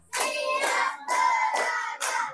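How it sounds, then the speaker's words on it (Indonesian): Students clap on their classroom tables in three bursts of rapid, loud slapping, with brief pauses between them. "Tepuk meja."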